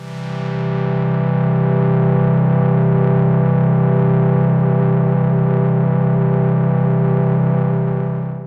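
Gently wavering under slow LFO modulation, a long, loud overdriven low tone from a Behringer Model D analog synthesizer carries a faint noise layer and plays alone for several seconds.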